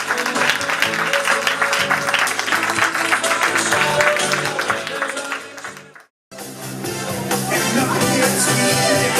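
Loud audience applause at an evening event, thick and continuous, dipping into a short silent break before the clapping resumes just as strongly, with musical tones mixed underneath.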